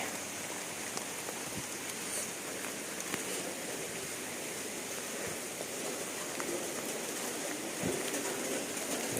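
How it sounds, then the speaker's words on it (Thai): Steady rain falling outdoors in a durian orchard in Chanthaburi, Thailand, a soft continuous hiss with scattered drips and faint bird calls in the distance. "ฝนตกตั้งแต่เช้ามืดเลยนะครับ"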